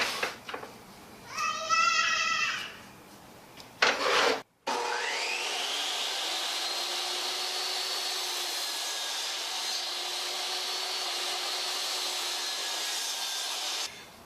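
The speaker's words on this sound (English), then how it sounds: "I'm switching my miter gauge to the other side of the table saw to cut off these other pieces" A table saw with a miter gauge cuts wood pieces: brief rubbing and handling noises give way to the saw motor starting up and running in a steady loud whine for several seconds.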